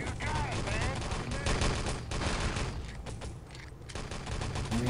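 Bursts of MP40 submachine gun fire in a competitive Nationscup match, rapid dense shots layered with other gunfire across the whole stretch, loud and sustained under a talking commentator.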